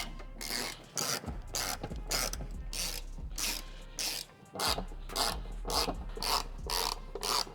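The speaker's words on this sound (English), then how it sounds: "next we'll replace all of the bolts that are on the bottom" A hand ratchet clicks in rapid bursts while tightening the bottom bolts of a light bracket on a Toyota 4Runner, close and loud, with short pauses between strokes.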